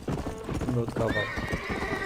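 A horse in Red Dead Redemption clops its hooves, then lets out a rising whinny over quick hoofbeats, all close and brief, with a voice talking over it.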